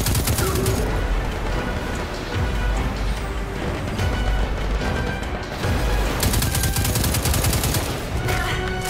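A hunter's golden gun fires in the Destiny 2 beta on PC: loud, sharp shots in quick bursts over dense battle noise, several cracks packed close together.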